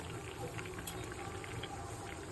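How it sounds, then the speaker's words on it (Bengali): Eggplant simmering in a pan of water, with a steady bubbling boil and small pops running evenly throughout at moderate volume. "বেগুনটা আমার সিদ্ধ হয়ে গেছে, ফুটে গেছে"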